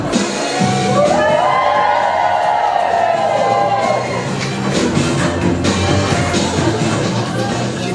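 Live studio audience cheering for two sous chefs on a cooking show, a steady crowd roar with whoops and shouts lasting several seconds, loud and close, with some voices mixed in.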